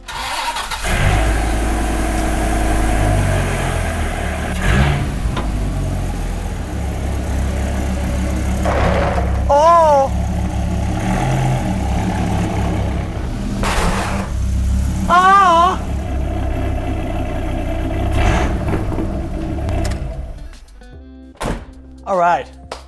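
A 2000 Dodge Viper engine idles with a steady low rumble as the car is moved into a garage, joined by thunks, brief squeaky chirps and a final cutoff, with occasional talk.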